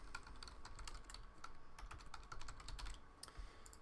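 Quiet typing on a computer keyboard as an email address is entered while setting up scan-to-email on a Sharp BP series copier, with irregular light key clicks and short pauses.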